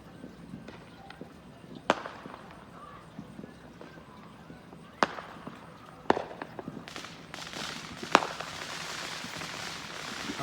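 Fourth of July fireworks go off in a residential neighborhood, heard from a porch as a few scattered sharp bangs and pops at moderate distance over a low background rumble.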